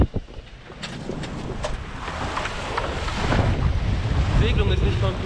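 Steady rush of water and wind noise buffeting the microphone as a sailboat with a reefed mainsail sails through the water in strong wind, a continuous broadband wash that swells slightly as it goes, with no voices.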